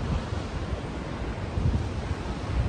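Ocean surf rolls steadily onto the beach at Point Danger on the Queensland–New South Wales border, a dense continuous wash of breaking waves mixed with gusty wind buffeting the microphone, with no talk.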